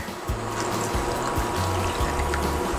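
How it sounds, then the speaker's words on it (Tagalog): Water is poured into a pot of paksiw na pata, a steady close splashing and gurgling stream that runs continuously for a few seconds with no talking. "Dadagdagan lang po natin siya ng water"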